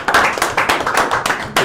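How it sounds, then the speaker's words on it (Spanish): Audience clapping at a live music radio show welcoming a performing band, loud and close with sharp rhythmic hand claps spread across the clip, briefly dipping near the end. "fuerte el aplauso"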